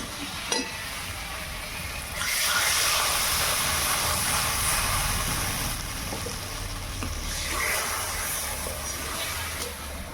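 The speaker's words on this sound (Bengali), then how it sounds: "এবার আমি জল দিয়ে দেবো।" Water poured into a hot pan of potatoes being fried with spices, a burst of loud sizzling and hissing steam after a brief clatter, settling into a steady bubbling sizzle.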